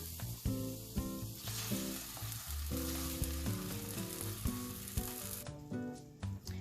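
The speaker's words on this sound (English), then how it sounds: "I'm going to add the tomato puree now and let it cook further" Tomato puree with turmeric and other spices bubbling and sizzling in a pan, a continuous close frying hiss with occasional soft stirring knocks and no talk.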